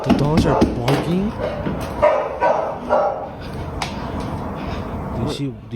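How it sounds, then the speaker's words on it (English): Dogs bark repeatedly in the background, sharp yips scattered over the first seconds while people talk close by. "The dogs are barking."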